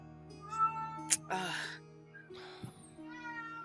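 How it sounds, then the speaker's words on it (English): A cat meows twice in the background, loud and clear, over a low steady hum with faint room noise. "We hear a cat in the background."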